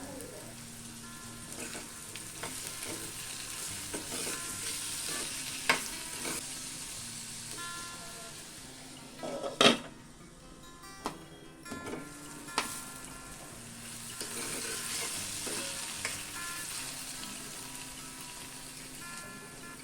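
Tomatoes for a prawn masala sizzle quietly in a pan, stirred now and then with a few sharp scraping knocks against a low, constant frying hiss.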